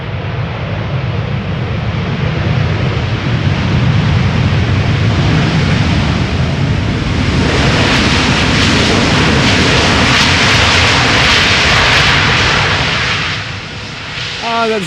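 A fixed-wing airliner lands at Schiphol Airport, its engine roar loud and continuous for several seconds and swelling into a broad, hissing rush before fading slightly at the end.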